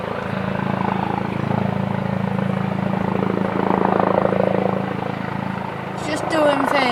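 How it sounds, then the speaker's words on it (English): A police helicopter hovers low overhead near a house, its rotor and engine making a steady, loud drone that holds throughout with slight swells in intensity. "here we have a police helicopter. I've just located it and it just flew right by my house. It's just hovering as well."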